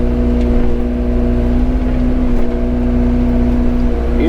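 Excavator clearing heavy brush and vines, its diesel engine droning loud and close with a steady low hum while the bucket teeth rake across the ground, faint scrapes and rustles rising over the engine.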